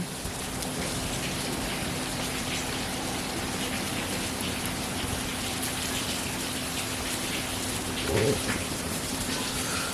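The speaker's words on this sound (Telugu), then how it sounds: "ఇప్పుడు జస్ట్ ఊరికే వర్షం పడుతుంది అంతే" Steady rain from a hurricane falls continuously, a dense hiss of drops on surfaces with no wind or voices, and a brief louder patter near the end.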